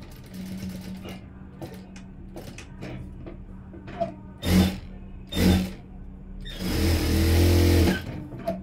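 A sewing machine stitches the high band of a blouse, a low steady hum broken by three louder bursts of running stitches close by, the last one longest, with clicks and handling noise between them.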